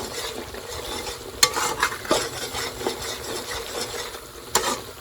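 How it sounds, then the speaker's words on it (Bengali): Onion and spices for a fish curry with beans, potato and tomato are stirred and sautéed in a pan, giving a steady sizzle with scraping spoon strokes and a few sharp knocks, moderately close, with no talk. "এটা আমি আরও পাঁচ ছ মিনিটের মতো ভালো করে কষাই"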